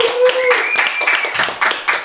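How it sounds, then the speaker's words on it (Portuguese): Audience applause welcoming the guest Roberto Shinyashiki onto a podcast stage, loud, dense clapping filling the whole moment, with voices and a brief tone mixed in. "recebam com muita honra e com forte aplauso o mestre Roberto Chiniachik"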